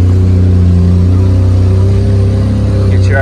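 A truck engine droning low and loud in gear, holding a steady deep hum with slight swelling in revs, with a brief voice near the end.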